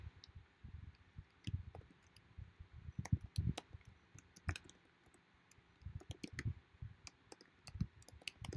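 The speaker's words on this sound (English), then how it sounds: "I'm just going to type that in." Key clicks come in irregular bursts on a computer keyboard while text is typed during a crochet shawl pattern session, faint and close, with a low rumble under them.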